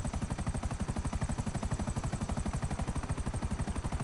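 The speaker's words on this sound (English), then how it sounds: "You might be wondering, guys, why I always use chopper" A helicopter in GTA 5 Online makes a loud, close, continuous rotor chop with rapid, even blade pulses. No voices are heard.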